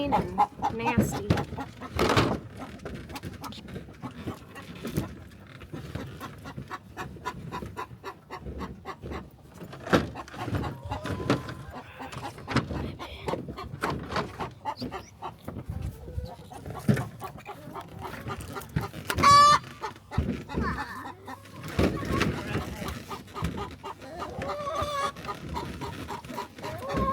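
Chickens cluck in a garden coop, close and recurring in short bursts across a long stretch, with scattered other noises around them.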